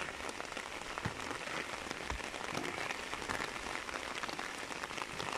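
Steady rain falls and patters on surfaces and an open umbrella outdoors, a dense continuous hiss of drops with scattered louder taps, close and even throughout.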